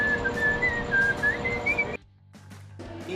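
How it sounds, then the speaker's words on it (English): A person whistles a wavering melodic tune into a microphone, loud and close, in a continuous phrase that cuts off abruptly, followed by faint low rumble and a few brief noises. "Whistle into it"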